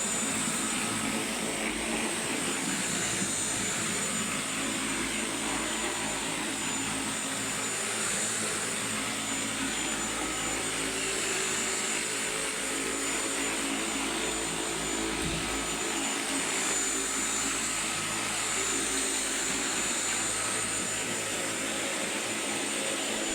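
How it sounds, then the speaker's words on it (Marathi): A self-propelled cordless vacuum cleaner runs continuously in a home, a steady whirring drone with a faint high whine throughout, with no talking heard. "आणि बारीक धूळसुद्धा अगदी छान म्हणजे ओढली जाते."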